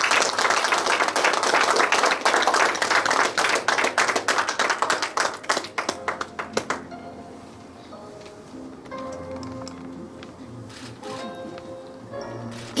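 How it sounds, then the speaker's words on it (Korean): Audience applause at a traditional Korean coming-of-age ceremony, dense clapping for about six seconds that thins into scattered claps and fades into a quieter room. "축하하는 큰 박수 부탁드리겠습니다"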